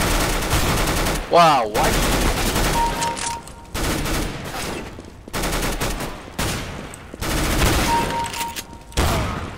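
Shotgun blasts and other gunfire in Counter-Strike: Global Offensive come in loud, close bursts across the stretch, with a player talking in brief exclamations between the shots.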